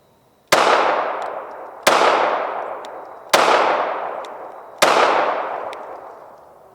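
Four loud, sharp shots from a Walther PD380 .380 ACP pistol, evenly spaced about one and a half seconds apart, each with a ringing decay trailing into the next.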